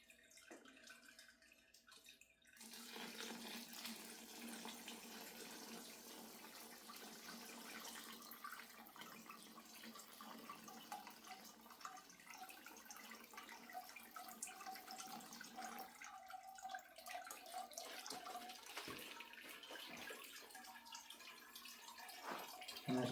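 Boiling water pours steadily through beeswax for a long stretch, a continuous splashing rush after a brief quiet start, close by.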